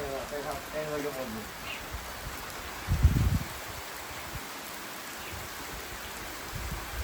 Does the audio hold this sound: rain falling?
yes